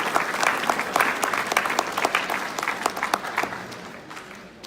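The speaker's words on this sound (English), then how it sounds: "a good round of applause for the Special Olympics" Steady applause from a gathered crowd at a city council special meeting, honoring Special Olympics participants returning with medals; dense, sustained clapping that tapers slightly toward the end.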